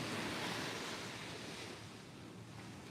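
Ocean surf rolling onto the beach, a continuous broadband wash with steady wind noise buffeting the microphone, fairly loud and close, no voices.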